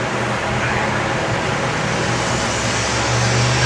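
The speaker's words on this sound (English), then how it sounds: "You hear that outside? That's a car. A redneck car." Steady, loud engine rumble of a car idling or driving nearby in the video game Dead Rising 2: Off the Record, a continuous low drone with no voices.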